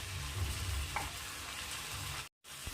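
Cluster beans and potato curry sizzle and frying steadily in a pan on medium heat, with one brief stir scrape partway through and a short gap of silence near the end.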